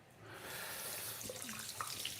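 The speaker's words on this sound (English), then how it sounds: "I'm just gonna reload this with some hot water." A tap runs steadily as hot water fills a container indoors, a continuous close splashing hiss with a few brighter drips and gurgles near the end.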